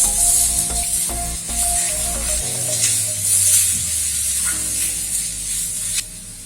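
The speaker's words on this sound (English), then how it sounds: "Now we will add ginger and garlic. Saute this." Ginger and garlic sizzle steadily in a pan with lightly browned onions while cooking an egg masala, a continuous close frying hiss with occasional stirring scrapes.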